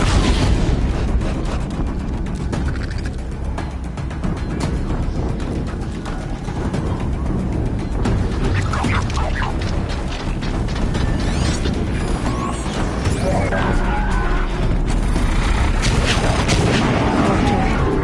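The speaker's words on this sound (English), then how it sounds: "An explosion." An explosion in the video game Horizon Zero Dawn booms loud and close, followed by a dense stretch of blasts, rumble and mechanical clatter while a voice speaks briefly.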